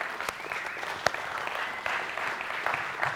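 An audience at a church gathering gives a lively round of applause, dense continuous clapping with a few sharper individual claps and faint cheering in the room.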